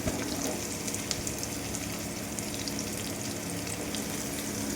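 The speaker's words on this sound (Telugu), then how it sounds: "ఓకేనండి, ఆల్మోస్ట్ ఫ్రై అయిపోయినాయి." Chicken pieces for chicken fried rice fry in hot oil, a dense, steady crackling sizzle that stays loud and close throughout with no pauses or talking.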